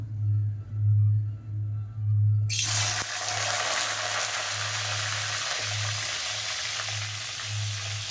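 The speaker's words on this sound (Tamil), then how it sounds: "இப்போ நம்ம கத்திரிக்காய் வந்து எண்ணெயில் போட்டு வதக்கிக்கலாம்" Eggplant pieces hit hot oil in a pan with a sudden loud sizzle after a quiet, low-humming start, and the frying crackle carries on steadily to the end.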